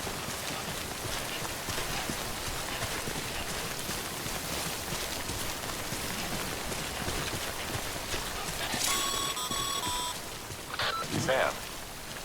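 Timefall rain in Death Stranding falling as a steady, hissing downpour, with a few electronic beeps and a brief knock near the end standing out over the rain.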